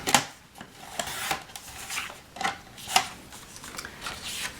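Scissors cut through paper for a scrapbook page in a series of crisp, close snips, roughly five distinct cuts spaced about a second apart, each with a short rustle of paper, with no talk.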